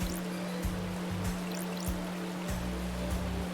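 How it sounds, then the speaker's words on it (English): Flowing water in the video game Paradise Killer, a continuous stream-like rush alongside steady game music and tones. "Oh, water."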